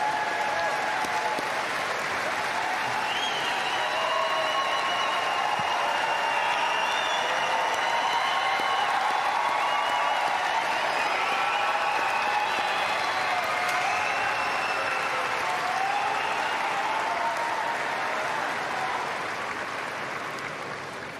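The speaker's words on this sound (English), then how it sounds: "a huge star, Stan Wawrinka, and the crowd understandably showing their appreciation" A tennis crowd at the United Cup 2023 applauds Stan Wawrinka, dense, steady clapping that holds loud and continuous throughout, only easing slightly at the very end.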